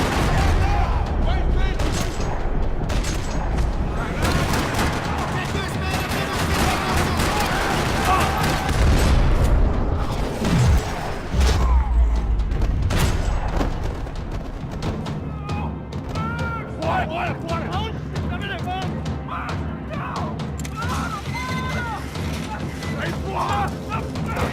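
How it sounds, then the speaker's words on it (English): Gunfire rattles through a parking lot in the video game Max Payne, a dense continuous barrage of shots with heavy low rumble that thins out toward the end, mixed with game music and voices. "Another parking lot rattling with gunfire."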